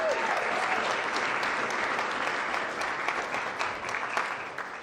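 Steady, moderately distant applause from the audience at a school board meeting, a dense wash of clapping that stays even for about five seconds, with a few faint voices mixed in.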